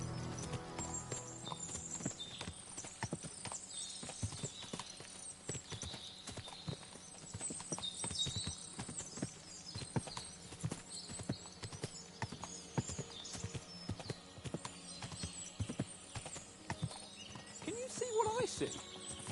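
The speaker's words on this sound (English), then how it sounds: "What a lot of horses!" In the video game Kingdom Come: Deliverance II, many horses clip-clop steadily on a hard surface, with occasional neighing and people talking in the background.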